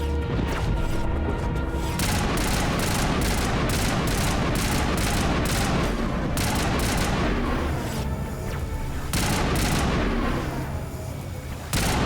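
Dense, continuous gunfire from a Mass Effect Legendary Edition firefight, rapid overlapping shots and impacts filling the whole stretch with only brief lulls, loud and close.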